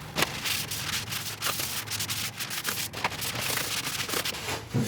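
A cloth soaked in WD-40 wipes across the cast table of a new Record Power Sabre 300 bandsaw in quick, close rubbing strokes, a continuous scratchy swishing with no speech.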